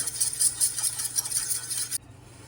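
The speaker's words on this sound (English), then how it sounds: "We're gonna use that fork from earlier just to whisk this together" A fork whisks egg with half and half in a bowl while scone dough is made, giving a fast, steady clinking and scraping rhythm up close that stops abruptly near the end.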